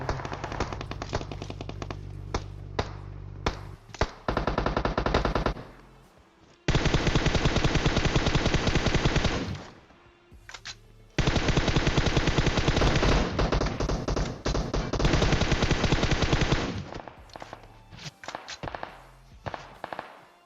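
Loud, sustained bursts of automatic gunfire from the mobile battle royale game PUBG Mobile, with rapid rattling volleys separated by short pauses and a few single shots.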